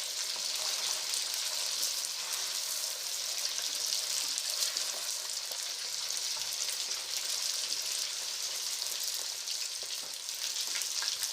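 Mutton pieces frying in hot oil for a black pepper karahi, a steady, close, dense sizzle and crackle that holds evenly throughout with no talking.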